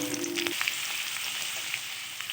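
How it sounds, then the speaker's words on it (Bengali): Potatoes fry in hot oil in a home kitchen, where paneer was fried just before. A steady, even sizzle carries on throughout, with a brief tonal hum at the start and small crackles and pops. "এবার ওই তেলে আলুগুলো ভেজে নেব।"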